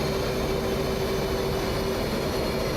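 An F/A-18 jet engine near idle in the DCS flight simulator, a steady dense roar with a faint constant whine, unchanging and close throughout.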